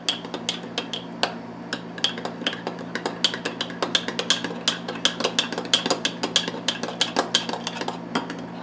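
A spoon stirs keto overnight oats with almond milk in a bowl, giving a fast, steady run of bright clinks and scrapes against the dish, close and clear with a faint hum underneath.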